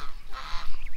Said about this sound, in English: Here comes another goose.